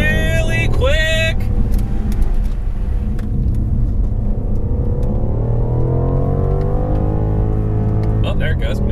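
A Dinan-tuned BMW M550i accelerates hard and shifts gears, its engine note climbing in rising sweeps with a brief drop at each shift, loud and close from inside the car, with a voice talking over it.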